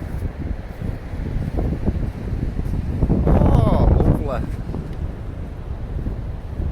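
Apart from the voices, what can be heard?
wind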